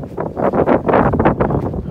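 Wind gusts through a snowy ponderosa pine forest on the Arizona Trail, a rough, rushing roar that swells and fades in surges, close and loud, with no talk.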